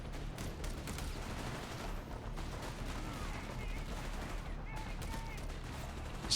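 Gunfire from an MG42 machine gun in the World War II strategy game Company of Heroes 3, a steady dense rattle of bursts running throughout amid battlefield noise, with faint talk underneath.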